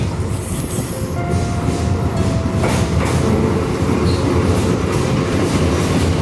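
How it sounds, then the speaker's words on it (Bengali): A local train rumbles loudly over Kolaghat Bridge, a steady heavy roar with rhythmic wheel clatter and a faint metallic squeal, close by. "ট্রেনটা দিক দিয়ে আসছে আপনারা ফিল করবেন আওয়াজটা"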